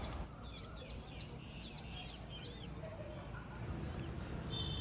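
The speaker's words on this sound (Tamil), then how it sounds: "பறவைகளோட சத்தம்" A series of quick, high chirping bird calls repeats over a hissy outdoor background at the Adi Jagannathar temple in Thiruppullani, fairly distant, then fades into ambience.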